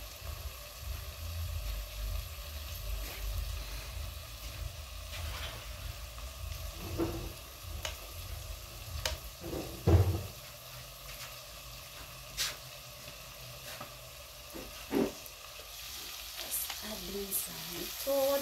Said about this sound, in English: While our veggies are cooking,